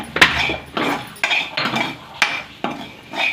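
A spoon stirs chili powder into a pan, giving periodic scraping strokes punctuated by sharp metallic clinks about every half second, close by.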